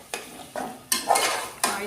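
Avare bele (hyacinth bean) biryani is stirred as it fries in oil, with four quick scraping strokes of a spoon against the pot over a soft sizzle.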